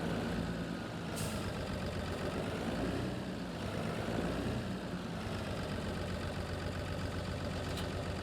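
A tractor engine idles steadily in a farming simulator game, a continuous low diesel rumble with faint mechanical knocking, loud and close throughout with no talking.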